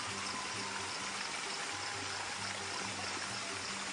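A village stream or water channel flows in a steady, gentle wash of sound, constant and fairly quiet, with a faint low hum beneath and no talking.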